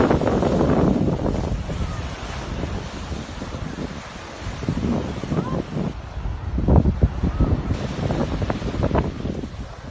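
Waves breaking on a beach under strong wind, a loud, continuous rushing roar with surging swells and heavy gusts buffeting the microphone.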